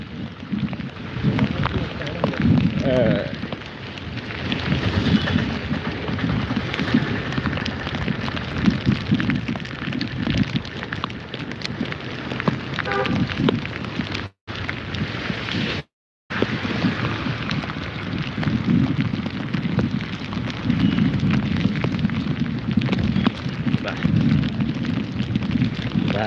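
Steady, dense rain from Cyclone Montha pours down throughout, a broad hiss with low rumbling underneath, briefly cutting out twice near the middle.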